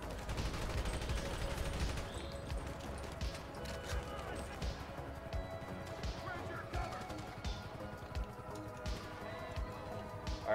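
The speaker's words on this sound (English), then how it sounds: "And we keep the gunfire rolling." Rapid gunfire crackles through a GTA roleplay shootout, bursts of shots and machine-gun fire repeating steadily over a continuous loud backdrop, with voices talking underneath.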